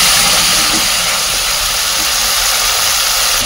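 Water hits hot oil and spices in a pan for a fish curry gravy, giving a loud, steady, broadband sizzle and hiss that stays close and constant throughout, with no talking.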